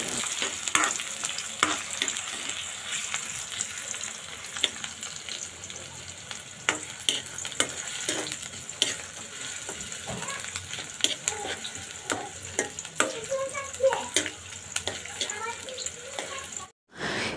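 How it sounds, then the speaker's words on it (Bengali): Chopped onion and whole spices, including cardamom and cloves, fry in oil for a mutton curry, giving a constant close sizzle broken by frequent clicks and stirring scrapes. "মূলত আস্ত গরম মশলা এবং পেঁয়াজ কুচি কিছুক্ষণ ভেজে নেব।"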